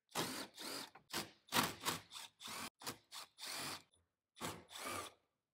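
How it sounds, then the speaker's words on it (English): A power tool drives T25 screws into metal behind a car dash fuse panel, a series of short loud whirring bursts in stop-start rhythm with brief pauses between. "These are going into metal, so I don't mind using a power tool here."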